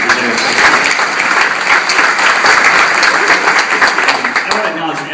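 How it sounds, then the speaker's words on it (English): Steady, dense applause from a meeting audience gathered for an emergency session on climate change and Hurricane Sandy, sustained and fairly loud throughout, with voices mixed into the clapping. "If we can give one more round of applause,"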